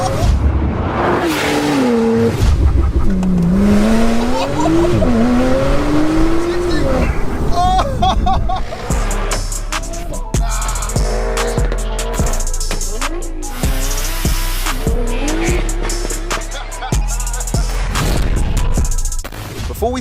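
A 750hp Porsche 911 Turbo S engine revs hard to about 5,500 RPM, loud and sustained with rising and falling pitch and sharp bursts later on, while people talk excitedly over it.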